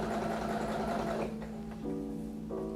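A sewing machine stitches fabric for children's items with a close, steady buzzing whir that pauses briefly after about a second. It then restarts in short bursts, with no voices over it.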